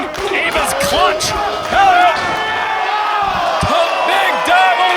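A live crowd at an independent wrestling show roars and shouts in a hall, loud and continuous, with sharp ring slams cutting through and voices calling over the noise.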